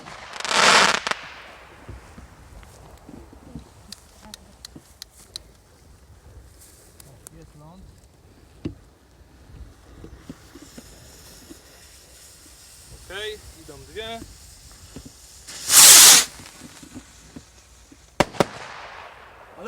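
Sharp rocket whooshes and booming bursts of fireworks go off at intervals on New Year's Eve, some loud and close, with people talking in between.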